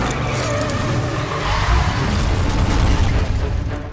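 Loud, continuous rumble of a car driven fast in a chase through Rome's cobblestone streets, steady engine roar and road noise with booming low thuds throughout and no pause.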